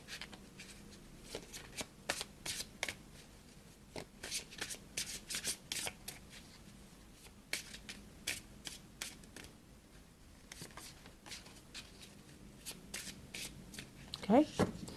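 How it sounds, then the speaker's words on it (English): Tarot cards riffled and shuffled in repeated bursts of crisp flicking and rustling, close up, with soft handling noises in between. "Let me just shuffle a little more."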